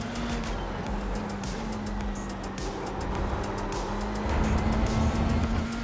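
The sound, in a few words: Dallara Formula 3 race car engine in iRacing video game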